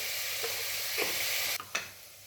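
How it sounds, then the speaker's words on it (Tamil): Long-cut eggplant slices sauté in hot oil in a pan with a steady, bright sizzle and a few soft stirring scrapes near the end, close and without talking. "இது நல்லது எண்ணெயிலே வதங்கணும்."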